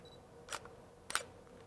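A camera shutter fires at a half-second exposure, giving two soft clicks about half a second apart, faint and close in a quiet room.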